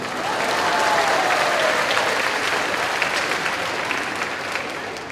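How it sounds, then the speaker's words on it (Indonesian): An audience at a Catholic talk by a priest breaks into steady, dense applause, loud and sustained throughout with no voices over it. "Tepuk tangan untuk wanita."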